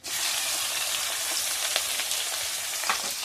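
Cumin seeds and green chilies fry in hot oil for a Bengali fish dish. A loud, continuous close-up sizzle hisses with faint spatters and no voices.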